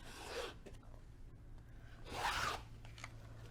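Rotary cutter slicing through two layers of quilting fabric, heard as two quiet, close raspy strokes about two seconds apart, with soft handling noise between them.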